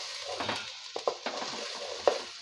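Rice and lentils being stir-fried in a pot for Bengali bhuna khichuri: a soft sizzle broken by several sharp knocks and scrapes of a spoon against the pot, close and fairly quiet.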